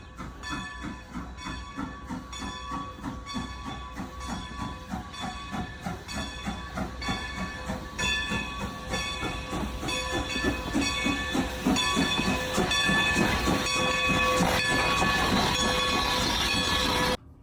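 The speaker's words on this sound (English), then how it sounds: "maybe we should go ride the train. Ah, here comes one now." A train rumbles past steadily for a long stretch, with rhythmic clacking of wheels on rails, hissing and squealing, growing louder toward the end.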